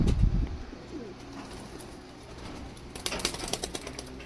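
Teddy and Kamagar pigeons coo softly at a sale in Kolkata, low repeated murmurs against a quiet background, with a few sharper bursts of fluttering or rustling near the end.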